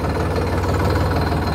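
A Sonalika DI 50 DLX tractor engine runs at a steady, loud, close rumble with a rough mechanical texture, heard alone.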